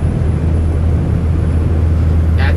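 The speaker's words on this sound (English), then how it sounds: "it's a helicopter crop dusting" Crop-dusting helicopter flying overhead, a loud continuous low rumble with steady engine drone, heard from close by without any talking.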